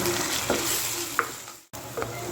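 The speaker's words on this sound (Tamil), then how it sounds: "வெங்காயம் நல்லா வதங்கி இருக்குது" Onions frying in a pan for a green peas thokku masala, with a steady close sizzle and a few scraping stirs of a utensil, broken briefly by a cut in the sound.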